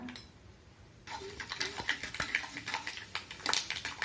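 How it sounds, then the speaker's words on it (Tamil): Mustard seeds and urad dal hit hot oil and break into a rising sizzle with sharp popping crackles after a quiet start, close and growing busier. "எண்ணெய் காயட்டும் கடுகு உளுத்தம் பருப்பு சேர்த்துக்கிறேன்"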